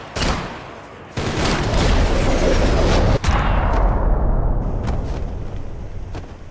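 Loud bursts of gunfire in Max Payne 3 crack and boom in quick succession, with echoing reports and a sustained rumble between shots.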